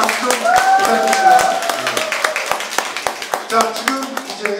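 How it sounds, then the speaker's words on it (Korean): An audience at a public broadcast hall in Byeollae claps for the technical team, a fairly loud burst of scattered clapping with distinct individual claps, mixed with voices and bits of sound from the stage. "우리 기술팀들 박수 좀 부탁드립니다."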